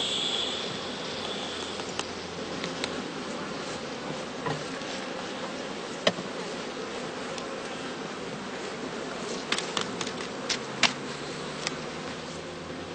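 Bees humming inside a straw skep during heather blossom, a steady diffuse buzzing drone with scattered soft taps and rustles throughout.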